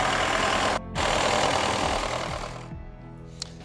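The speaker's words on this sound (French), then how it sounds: "Il tourne au ralenti accéléré en fait, pour qu'il monte en température" A car engine runs at a fast idle while warming up, a steady close mechanical drone with a brief interruption early on, then it drops and fades toward a quieter idle with a small tick at the end.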